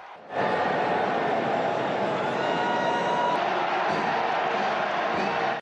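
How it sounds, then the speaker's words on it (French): Large crowd of faithful cheering and applauding as a newly elected pope appears, a dense continuous roar of voices and clapping filling the whole stretch. "Le nouveau pape élu apparaît, accueilli sous un tonnerre de cris et d'applaudissements."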